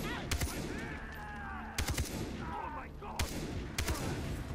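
Sharp bursts of gunfire from the video game Far Cry 3 crack out in several clusters of rapid shots, loud and close, with quieter game sounds and faint voices in between.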